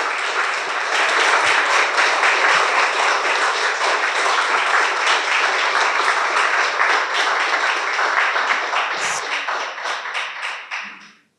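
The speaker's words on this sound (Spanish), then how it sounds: "Le vamos a dar un aplauso a Katia" Audience applause after a presentation at a music pedagogy event, sustained dense clapping that carries on for several seconds before fading out at the end.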